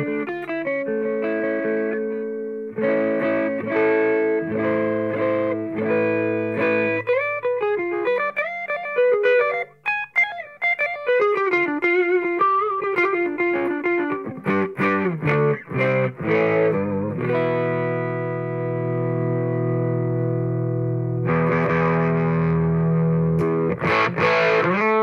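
An electric guitar plays chords and riffs through a BOSS Dual Cube LX amplifier on its crunch setting, a loud, close, distorted tone with sustained chords and quicker picked phrases, no voices.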